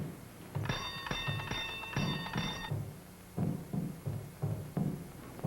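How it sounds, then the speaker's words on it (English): A doorbell rings in rapid bursts, bright metallic trills that come in several clusters, followed by dull knocks and thumps at a moderate distance. "You ring the bell."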